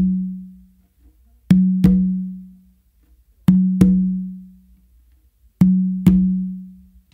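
Bass finger clave exercise on congas, with open tones and bass strokes: three evenly spaced pairs of sharp drum hits, each pair a quick double strike with a ringing low tone that decays, played alone and close.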